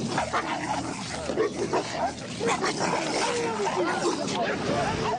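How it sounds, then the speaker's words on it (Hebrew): Pit bulls snarl, growl and yelp in a chaotic fight, loud and close, with whimpers and a voice talking over the commotion. "אתה לוקח כלב, פיטבול ועוד פיטבול, ונותן להם לריב עד המוות."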